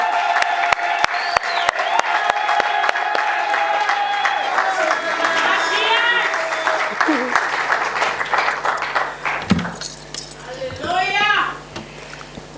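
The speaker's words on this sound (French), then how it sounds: "on acclame le Seigneur très fort" A church congregation applauds and cheers steadily, with sharp claps and rising shouts and ululating voices building to a loud peak near the end.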